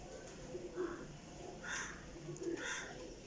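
Breeder pigeons coo close by on a rooftop, with several soft, throaty coos spaced across a few seconds over a faint hum of background noise.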